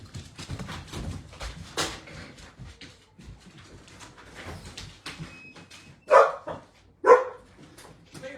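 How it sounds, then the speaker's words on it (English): Dogs bark indoors in two sharp, loud bursts near the end, with lighter yips and rustling earlier and no talk. "my granddogs like to bark for confirmation"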